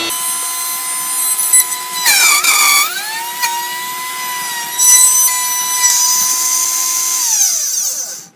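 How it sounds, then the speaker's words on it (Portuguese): A wood router spins at high speed while cutting a slightly oval wooden baseboard for furniture, a loud sustained whine that bites harder in bursts as the blade catches, then winds down at the end. "Eu vou ligar a tupia agora e vamos fazer esse corte."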